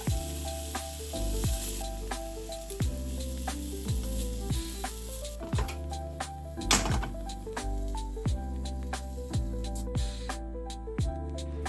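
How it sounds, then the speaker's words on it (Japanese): Eggplant, wiped dry after soaking, pan-frying in a frying pan until browned on both sides, a steady close sizzle running throughout with recurring soft pops and spatters. "アク抜きしたナスの水分を拭き取ったらフライパンで両面焼き色がつくまで焼く"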